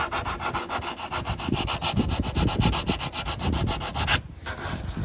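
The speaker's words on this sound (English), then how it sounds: "Then you take just a piece of sandpaper, 120 is great." Rolled 120-grit sandpaper rubbing a wood inside corner by hand, steady rapid back-and-forth scratching strokes close up, with no talk.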